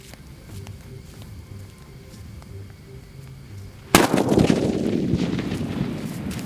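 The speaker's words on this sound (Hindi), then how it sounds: "और काफी तेज चला हमारा अग्नि बम" An Agni bomb firecracker goes off in a Diwali fireworks test, one sudden loud outdoor blast after a quiet stretch, followed by a long rumbling, crackling decay.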